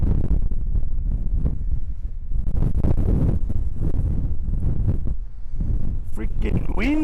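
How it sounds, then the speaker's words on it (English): Strong wind gusting outdoors at a rocky ancient site, buffeting the microphone with a steady low roar while someone talks over it. "Freaking windy. It's windy out here."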